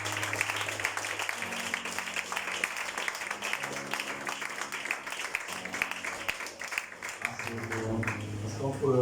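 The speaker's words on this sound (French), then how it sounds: "Acclame pour Jésus." A church congregation applauds for Jesus at a worship service, steady clapping running throughout with voices talking and calling out over it and music swelling near the end.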